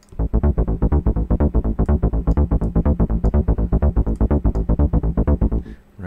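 Shuffled techno bass pattern on a Rob Papen Predator synth with swing boosted, a long run of loud, close, evenly driving bass notes with a bouncing swung groove, heard alone.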